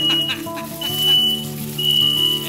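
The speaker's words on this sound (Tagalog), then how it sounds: "Ayan, nag-alarm na dahil mausok." Smoke alarm beeping indoors, set off by smoke from frying dried fish: a thin high-pitched tone that comes and goes in short bursts over steady background music.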